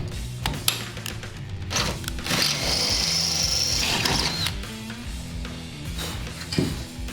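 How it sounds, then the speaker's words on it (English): A 1/4 inch bit drills holes through a Ford F100 hood hinge, a steady power-drill whine lasting about two seconds, framed by scattered clicks and clanks of handling nearby. "I'm going to use a 1/4 inch bit and drill through these 3 holes."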